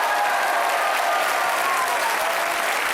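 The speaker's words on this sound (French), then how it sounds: "Vous avez raison d'applaudir," A French TV studio audience breaks into loud, dense, continuous applause filling the whole stretch, a steady wash of many hands with no voices standing out.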